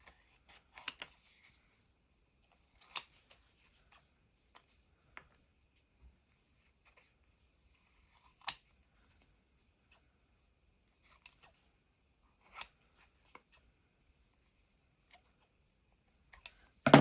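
Scissors trimming a paper envelope in a craft project, giving scattered short snips and crisp cuts spaced irregularly across a quiet background, close and fairly faint.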